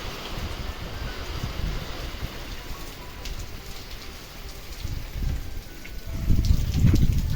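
Steady heavy rain drumming on a shed roof, with a constant hiss and louder gusts toward the end; no voices.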